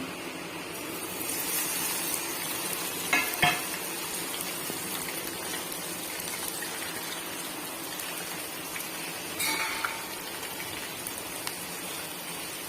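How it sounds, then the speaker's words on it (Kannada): Cumin, ajwain and garlic fry in hot oil with a soft, even crackle like light rain, and a couple of brief clatters stand out. The sound is fairly quiet and close, with no talking. "ಇವಾಗ ಆಯಿಲಲ್ಲಿ ಜೀರಿಗೆ ಮತ್ತು ಓಮ್ ಕಾಳು ಮತ್ತು ಬೆಳ್ಳುಳ್ಳಿ ಹಾಕಬೇಕು"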